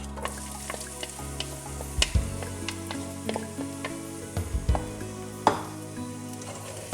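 Chopped onions sizzle steadily in hot extra virgin olive oil in a pan, a close continuous frying hiss with scattered crackles and a few utensil clicks as they are stirred, no voices.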